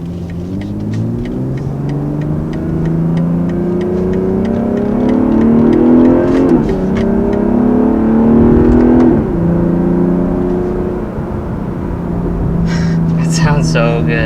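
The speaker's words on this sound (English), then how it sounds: "I'm just listening to that engine sing and those burbles and shifting manually" A 2020 BMW M340i's engine drones loud and close while driving in traffic, its rising gear-held revs broken by manual upshifts with small exhaust burbles between, and a brief voice near the end.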